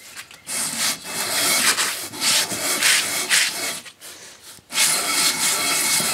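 An engine cylinder head is rubbed in circles across a surfacing plate, making loud, rasping scrapes in repeated sweeping strokes with brief pauses between passes. The sound is close and has no voices.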